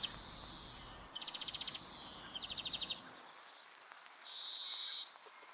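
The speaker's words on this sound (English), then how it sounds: "let's EQ also the ambience from the birds." Bird ambience used in a music mix: faint, rapid trilling chirps in short bursts, followed by a brief sustained high whistle-like call, set against a soft background hiss that drops away partway through.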